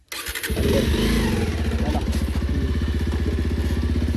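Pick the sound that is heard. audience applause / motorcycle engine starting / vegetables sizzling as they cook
motorcycle engine starting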